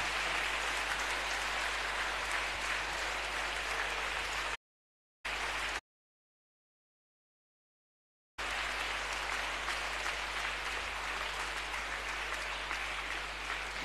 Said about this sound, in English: Let us give a big applause to our outgoing head board of prefects.